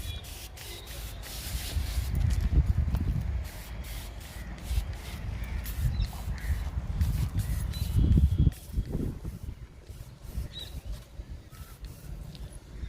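A neem oil mixture is sprayed onto garden plants infested with caterpillars and mealybugs, giving repeated hissing bursts from a hand sprayer, with crows cawing faintly in the background.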